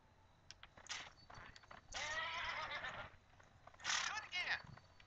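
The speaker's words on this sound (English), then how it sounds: "Press the sprint button to spur your horse." A horse in the video game Gun, spurred to sprint, neighs and whinnies twice in loud bursts amid quick clip-clopping hooves, with a quiet voice speaking in the background.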